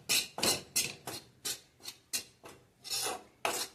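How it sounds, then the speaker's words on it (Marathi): Gram flour is stirred while dry-roasting in a pan over medium heat, a close series of rhythmic scraping rasps, about ten strokes, each a short gritty sweep. "ते बेसन भाजून घेऊया गॅस मिडियमच ठेवायचा आहे आणि सतत हलवून भाजून घ्यायचं आहे"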